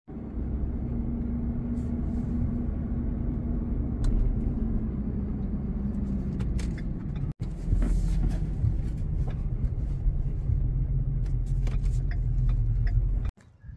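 A pickup truck towing a livestock stock trailer drives along the road, giving a steady, loud low engine and road rumble that runs almost unbroken, with one brief dip near the middle and a drop at the very end.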